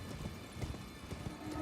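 Horse hooves clopping in a galloping rhythm in Elden Ring, a quick series of soft, fairly faint thuds repeating steadily over a low background.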